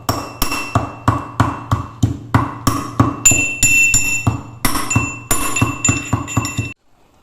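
Cardamom pods pounded in a kitchen, a steady series of sharp, loud, close pestle strikes with metallic clinking ringing, roughly two to three blows per second before stopping abruptly, no talking.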